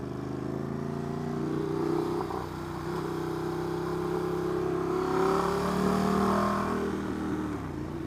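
A Ducati Monster 821 motorcycle fitted with a Competition Werkes exhaust drones steadily while riding, its engine note rising and falling through gear changes, close and fairly loud.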